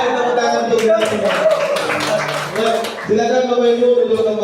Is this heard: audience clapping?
yes